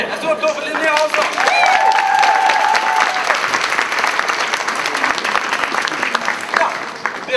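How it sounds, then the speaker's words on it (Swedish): Crowd applauds a contestant at the KultCon cosplay contest, a full, sustained round of clapping with cheers and whoops rising early, then steady hand-clapping that carries on to the end. "En stor applåd för Linnea Hansson!"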